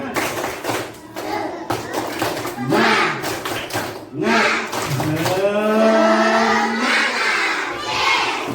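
A school class chants the tepuk semangat clapping cheer together, loud rhythmic group clapping mixed with children's shouted chanting voices, ending in a long sustained cheer.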